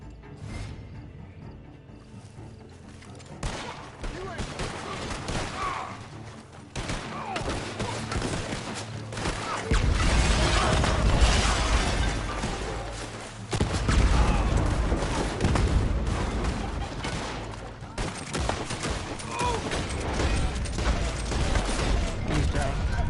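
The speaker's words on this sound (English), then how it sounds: "shotgun shoots explosive rounds" A shotgun firing explosive rounds in Red Dead Redemption 2, heavy booming blasts and crackling gunfire in irregular bursts, loud and close in a chaotic firefight, with voices shouting now and then.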